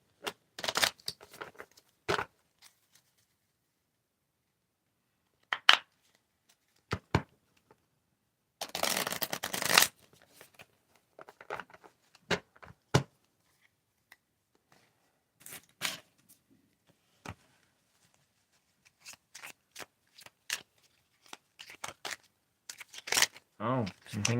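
Tarot cards riffle and shuffle in short bursts separated by quiet pauses, close and fairly soft, with one longer flurry midway.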